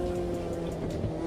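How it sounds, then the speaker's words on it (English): Turbocharged race car in a sim racing game spinning its wheels in second gear, a steady strained engine drone with tire squeal running through the whole short burst. "It's wheel spinning so far in second gear in the turbo"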